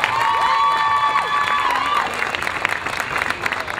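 A crowd at a charity night walk in Philadelphia claps and cheers loudly, with whistles and shouts ringing over the dense applause before it thins into scattered claps.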